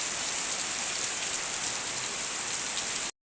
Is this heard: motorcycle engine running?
no